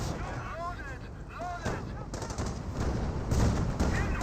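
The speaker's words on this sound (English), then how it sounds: "MT-42 firing away, trying to get suppression of those same Riflemen" MG42 machine gun bursts in a Company of Heroes World War II battle, steady rapid fire layered with distant artillery booms and chaotic battlefield noise, fairly loud and continuous throughout.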